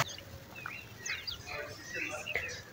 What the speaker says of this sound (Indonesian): Yang suka dengan burung 1000 suara, ini burung sambyongnya